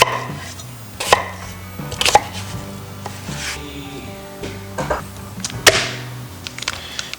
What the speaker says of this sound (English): we used probably a couple of small shallots and diced them